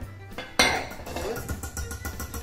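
Banana pudding scraped off a whisk against a dish, with a sharp clink followed by a few rattling scrapes and light taps of metal on the bowl.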